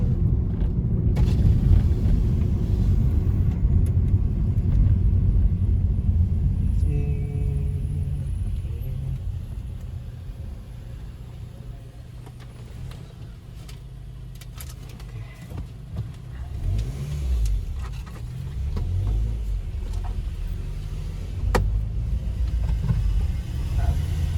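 Low engine rumble from a 2019 Mitsubishi Xpander accelerating in third gear on a road near an airport, heard steadily from inside the cabin, easing midway and then building again.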